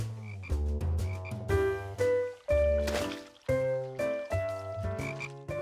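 Deep, resonant cartoon frog croaks repeating in uneven bursts, several calls overlapping, loud and close with brief pauses between them.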